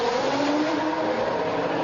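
A Formula 1 car in the F1 2003 video game, a Minardi at the Australian Grand Prix, revs loudly and steadily as it gets going again, with a continuous high engine drone and no pauses.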